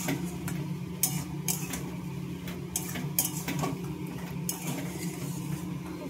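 Banana flower cooked with spices is stirred in a metal pot, a steady scraping and clinking of the spoon against the pot repeating throughout, close and moderately loud, with no voices.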